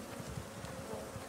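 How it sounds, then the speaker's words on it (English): Bees buzz steadily in the survival game Icarus, a faint continuous droning hum with no voices. "I don't like the bees."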